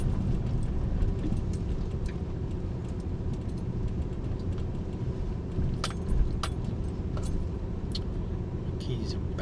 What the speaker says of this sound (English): Keys are banging around.